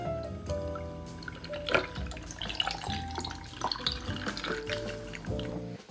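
Zombie tiki cocktail poured into a tiki glass, liquid splashing and trickling with clinks and drips, fairly quiet and close.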